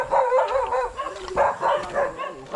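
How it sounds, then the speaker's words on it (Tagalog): A dog barks repeatedly nearby, several sharp, slightly whiny barks in an uneven rhythm, loud and alone. "May aso."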